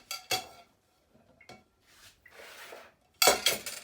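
A plate and a regular tablespoon are handled in a kitchen, producing sharp ceramic and metal clinks and knocks at the start and end, with softer scraping handling noise in between.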